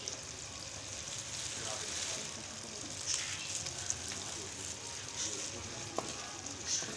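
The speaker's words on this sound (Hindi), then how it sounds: "अब जो है इसको फ्राई कर लेंगे।" Beef with ginger garlic paste frying for beef korma, a soft continuous sizzle at moderate distance with occasional spatula scrapes and taps.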